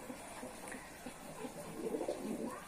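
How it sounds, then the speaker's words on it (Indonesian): A silver pigeon, a high-flying breed, gives soft low coos, faint and intermittent over quiet background noise, growing slightly more frequent toward the end. "Ini ada merpati silver ya."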